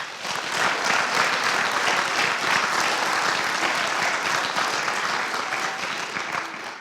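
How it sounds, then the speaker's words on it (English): Sustained applause from a school athletic awards audience for the parents, a dense even wash of many hands clapping for several seconds before tapering off at the end. "Please give our parents a round of applause, too."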